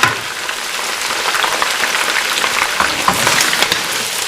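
Medium onions and chicken fry together in a karahi for Irani chicken karahi, giving a loud, steady sizzle with crackling bursts throughout and no talking.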